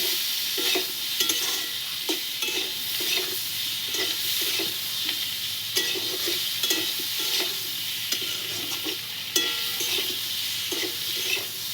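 Kohlrabi and potatoes fry in a pan, a continuous sizzle broken by regular scraping clicks of a spatula stirring the pieces every second or so, close and steady, with no talking.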